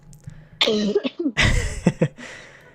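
Several harsh, close coughs in a rough burst, with throat clearing between them and no talking.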